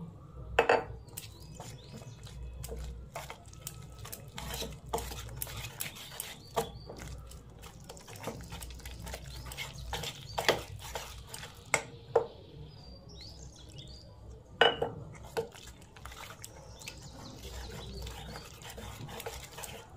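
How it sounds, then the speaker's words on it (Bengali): Idli batter is mixed with water in a bowl, giving soft intermittent clinks and scrapes of a utensil against the bowl, with faint birds chirping in the background. "এবার ওই বাটির হাফ বাটি জল অল্প অল্প দিয়ে ব্যাটারটা গুলে নেব"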